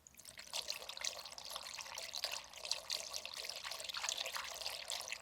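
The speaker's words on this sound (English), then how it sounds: "So nothing left to do but pour it in," Diesel fuel pours from a non-venting gas can into an engine's oil fill before an oil change, making a soft, steady trickling gurgle. The splashing flow runs continuously and fairly faint, with no talking.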